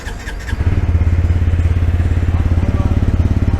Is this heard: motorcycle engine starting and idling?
yes